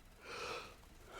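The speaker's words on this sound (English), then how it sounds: "I stop yawning" A single drawn-out yawn from a man playing Call of Duty Zombies: a breathy, airy swell that peaks midway and then fades, close to the mic with no talk.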